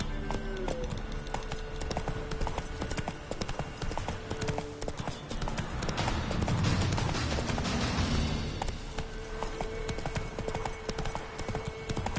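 Roach, a horse in The Witcher game, trots with steady, rhythmic hoof clip-clops close up throughout, over ambient game sound and music.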